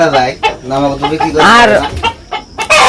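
Hens cluck and squawk close by in a busy, uneven series of calls, some rising into sharper cackles.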